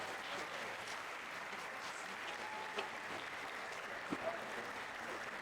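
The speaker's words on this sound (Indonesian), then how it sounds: "Sekali lagi tepuk tangan untuk 3 alumni kita yang luar biasa." An audience at a school alumni talk show at Sekolah Bintang Mulia applauds three alumni, giving a fairly faint, even spread of clapping that carries on steadily, with a few sharper isolated claps standing out near the end.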